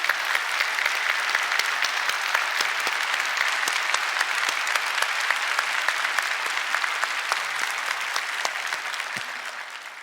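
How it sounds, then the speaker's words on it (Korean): Church congregation at a Sunday worship service gives sustained, steady applause to welcome visiting guests, a dense even wash of many hands clapping that fades gently at the end. "우리 모든 성도님들 환영하는 마음으로 박수해 주시기 바랍니다"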